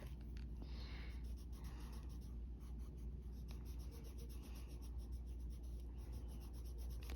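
Prismacolor colored pencil laid down and blended on paper while coloring a leaf, a continuous soft, close scratching and rubbing of pencil strokes.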